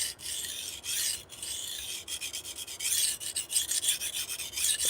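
A knife blade is drawn across a sharpening stone in steady rasping strokes, a close scraping rhythm with short breaks between passes, and no voices.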